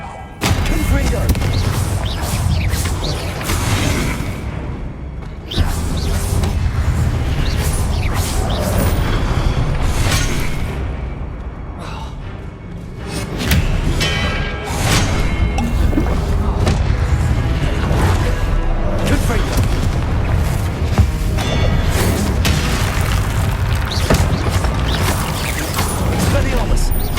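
Confringo spell blasts in Hogwarts Legacy burst repeatedly as booming, crashing explosions amid busy combat noise, with a voice talking over the action.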